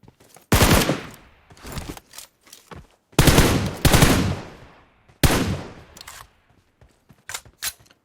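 Video game gunfire rattles out in three long, loud automatic bursts, separated by short single shots and quieter clatter.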